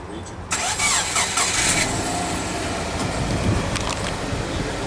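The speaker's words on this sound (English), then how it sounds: "just as I do start the car up" A privately owned car cranks and fires into a starting engine, then settles into a steady idle that stays loud and continuous, with some clatter at the start.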